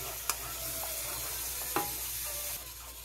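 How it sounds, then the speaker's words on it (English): A spoon stirring a Jamaican pigtail glaze in a pan, a sauce of ketchup, pimento seeds and sweet chili sauce; a steady low sizzle runs throughout, broken by two sharp scraping strokes, close and fairly quiet. "keep stirring because you want all the ingredients to combine together"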